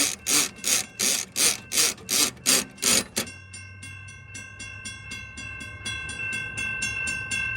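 A malfunctioning railroad crossing gate mechanism makes a loud mechanical pumping, rapid rhythmic thumps repeating about three times a second, then continuing more softly with a steady tonal hum underneath.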